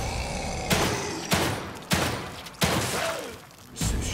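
Gunfire in the survival horror video game The Evil Within 2, a series of about five heavy gunshots at steady intervals, loud and close with booming reverberant tails.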